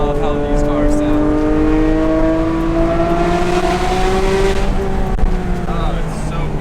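A Porsche GT3 race car engine holds a strong, rising tone while driving on a mountain road, heard from inside at close range with a steady rumble and a slight climb in pitch.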